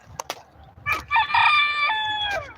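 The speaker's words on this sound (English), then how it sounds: "That is our rooster pal, our rooster friend." A rooster crows once, a loud and close drawn-out call with harmonic ringing, after a few short clucks and bumps, with no talking.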